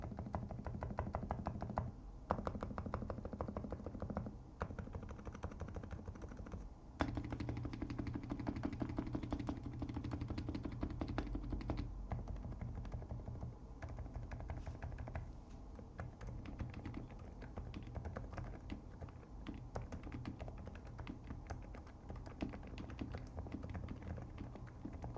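Quiet, muffled typing on a NuPhy Halo V2 keyboard fitted with silent Blush Max switches, a continuous soft patter of dampened keystrokes with no talk over it.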